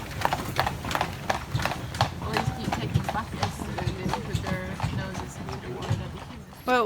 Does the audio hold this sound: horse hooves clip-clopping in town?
yes